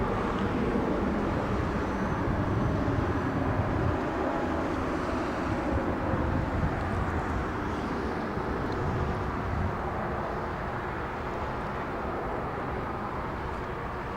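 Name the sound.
United Airlines Boeing 777 taking off at LAX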